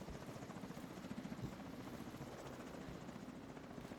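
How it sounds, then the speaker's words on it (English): A helicopter arriving in The Division 2, its rotor thumping in a rapid steady pulse, fairly faint and distant, carrying on alone without talk. "So we're seeing another chopper here."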